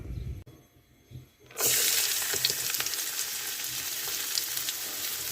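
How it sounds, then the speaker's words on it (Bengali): Chopped onion and garlic dropped into hot mustard oil for a dried-fish bhuna, bursting into a loud, steady sizzle after a few quiet seconds of handling, close by with no talking. "দিয়ে দিব পেঁয়াজ আর রসুন কুচি এক কাপের মতো"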